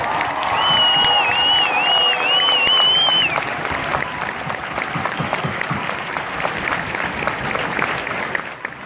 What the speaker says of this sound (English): I feel like our vocal point deserves an extra, even louder round of applause.